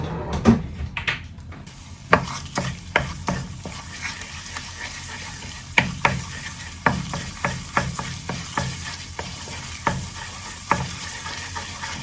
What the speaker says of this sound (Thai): ผัดไปมันจะกินหอมนะคะพี่น้อง